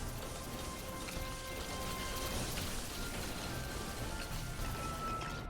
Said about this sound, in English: I'm gonna take rain.